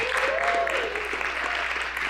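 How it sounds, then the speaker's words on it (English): Audience applause at a community television producer awards event honoring volunteers, a steady wash of clapping with a brief voice rising over it early on. "let's hear a round of applause for these essential BCTV volunteers"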